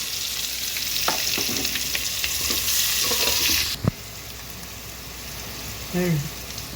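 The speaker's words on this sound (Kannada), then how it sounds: "ಅದರ ಜೊತೆ ಇದು ಏನು ಈರುಳ್ಳಿ, ಹಸಿ ಮೆಣಸಿನ್ಕಾಯಿ ಹೆಚ್ಚಿಟ್ಕೊಂಡೇವಲ್ಲ, ಇದು ಆಯಿಲ್ದಾಗೆ ಬೇಯಿಸ್ಕೋಬೇಕು" Chopped onion and green chilli fry in hot oil with a steady, dense sizzle, close up, while a spoon stirs and scrapes the pan now and then.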